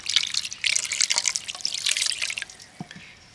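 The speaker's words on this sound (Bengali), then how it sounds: "আবারও ভালো করে ছানা থেকে জলটাকে ঝরিয়ে নেব।" Rinsed chhana held up so its water drains out gives a close, steady trickle and dripping splash that thins out toward the end.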